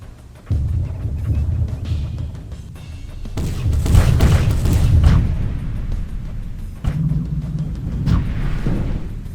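Combat in the Ground Control 2 real-time strategy game: rumbling explosions and bursts of gunfire layered into a loud, continuous battle din with booming swells, no talking.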